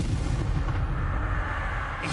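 Heavy booming blasts from Confringo and Repulsor spells in a Hogwarts video game, a continuous low rumbling barrage of explosive impacts with no talking.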